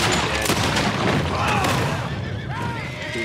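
Gunfire in Red Dead Redemption 2, a loud dense barrage of shots and booms with a rumbling background throughout, and voices talking over it.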